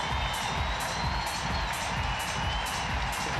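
Large arena crowd at the Invictus Games in Vancouver Whistler cheering and applauding loudly for Team Ukraine, a dense, sustained roar of claps, whoops and shouts with rhythmic clapping running throughout.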